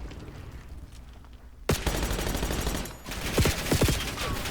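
Bursts of gunfire from a Call of Duty match: after a quiet stretch, a sudden volley of shots cracks out, followed by several more sharp, close shots near the end against steady in-game background noise.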